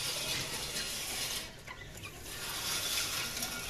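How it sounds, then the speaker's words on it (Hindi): A hen and her chicks cluck and peep softly at a rural home in Karachi in the evening, a fairly quiet, steady scatter of calls over even background hiss. "अब मुर्गी और चूजों को मैं बंद कर देता हूँ"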